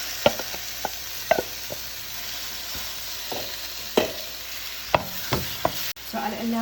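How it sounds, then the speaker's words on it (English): Chopped onion sizzles and fries in a spice paste seasoned with seven spices, with scattered stirring clatters and scrapes of a utensil against the pan over a steady broadband hiss, close by and moderately loud, without any talk. "Now I'll add the onion."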